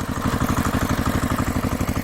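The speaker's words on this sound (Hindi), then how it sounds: "तीनों मिलकर बैंगन के खेत पे ट्रैक्टर चलाते हैं" A cartoon tractor plowing an eggplant field chugs with a rapid, even, pulsing engine beat, loud and close, running steadily before cutting off abruptly.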